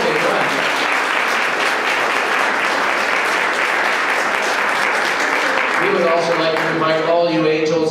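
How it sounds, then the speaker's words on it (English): A church audience claps after a children's Christmas play, a loud, sustained round of applause from many hands lasting several seconds, with a voice starting to speak near the end. "maybe a round of applause"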